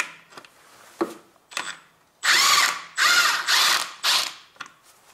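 A ratchet loosening an engine mount bolt underneath a Honda Civic gives a few short clicks, then four longer bursts of rapid ratcheting, close up and loud, with no one speaking.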